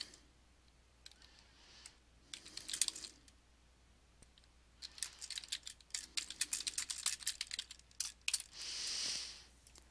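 Quiet, close typing on a computer keyboard comes in irregular clusters of quick key clicks, with pauses between bursts, a louder run near the middle and a brief swishing sound at the end.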